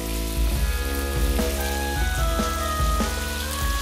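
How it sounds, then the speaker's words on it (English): Soy sauce hits hot beef frying with sugar and Szechuan peppercorns, setting off a loud, steady, close sizzle with faint stirring clicks throughout. "Okay, so now we're gonna add in the soy sauce."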